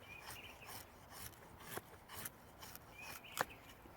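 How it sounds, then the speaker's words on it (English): A knife carves shavings from cottonwood, making soft, quiet rasping strokes in an irregular rhythm, close up with a few sharper scrapes and no speech. "enjoying just getting some shavings off of this thing. It glides through this wood."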